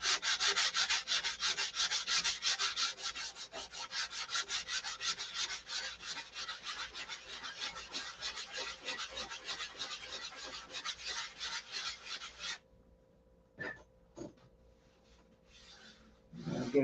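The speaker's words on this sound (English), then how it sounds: "It's just rough sanding it in." Body filler on a car body is rough sanded with 180 grit in a rapid, steady rasping rhythm of close, loud strokes that runs for about twelve seconds, then stops, leaving a few faint knocks and rustles.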